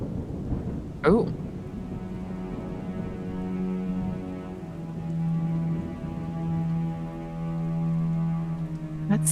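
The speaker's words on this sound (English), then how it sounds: "That's thunder." Thunder rolls through a thunderstorm, opening with a sharp crack and then a long low rumble, heard beneath sustained tonal music-like sounds and rainy texture.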